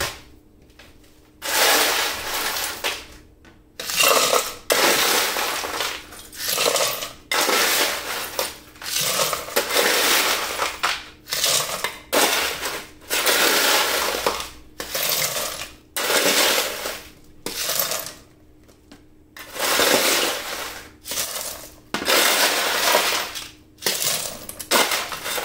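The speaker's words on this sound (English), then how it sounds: "All right, time to put some ice in." Ice is dropped into a herbal distillation pot, landing in repeated loud, clattering bursts of rattling cubes separated by short gaps, continuing throughout with no talking.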